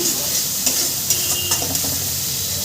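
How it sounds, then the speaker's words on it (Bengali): Spice paste with cumin and chilli fries in a pan for a Bengali fish curry, a loud steady sizzle with a few scraping stirs of the spoon, close and without talk. "সমস্ত মশলা সুন্দর করে কষিয়ে নেব"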